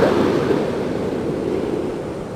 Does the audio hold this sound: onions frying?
no